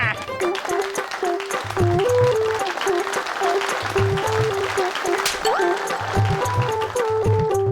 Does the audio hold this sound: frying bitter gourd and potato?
no